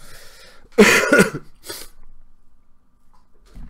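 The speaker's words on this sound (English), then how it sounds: "Do apologise for the coughing again, guys." Harsh coughing from a man during a live gaming stream, a tight burst of two or three close, loud coughs followed by a softer one, then quiet.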